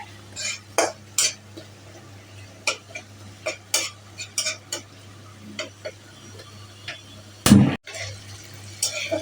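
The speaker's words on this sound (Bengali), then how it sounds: "এখন পরিমাণ মতো হলুদ দিয়ে দিচ্ছি দিয়ে ভালো করে নাড়িয়ে নিতে হবে" A spoon stirs mung dal with turmeric in a pot, scraping and knocking in irregular strokes against a low steady hum, with one loud clattering burst near the end.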